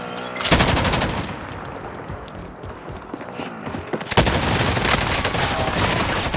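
Dense, loud gunfire from a Call of Duty: Modern Warfare match rattles nonstop in rapid automatic bursts, easing briefly midway before a sharp burst brings it back at full intensity.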